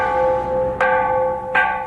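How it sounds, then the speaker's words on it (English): Bells ring at a Buddhist temple in Phuket, Thailand, with two clear strikes whose long, resonant tones hum and linger between hits, loud and close. "the bells tolled for those lost to the sea"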